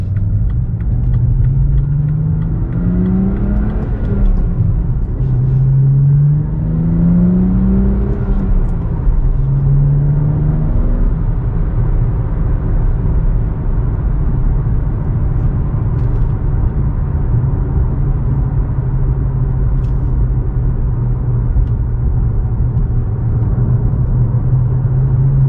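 A 2016 BMW M235i with a six-speed manual pulls hard in fourth gear, its engine note climbing in pitch through a few rising sweeps before settling into a loud, steady close-up rumble, with no talk.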